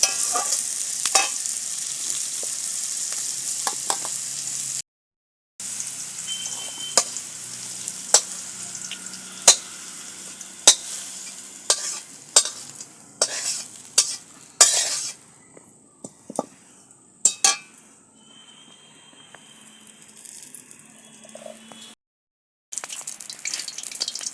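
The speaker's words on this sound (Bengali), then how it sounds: "সবজিগুলো ভেজে তুলে নিয়েছি" Vegetables frying in a pan for a vegetable dal, a close hiss of frying broken by sharp clinks and scrapes of a utensil, easing to quieter crackle with brief silent gaps.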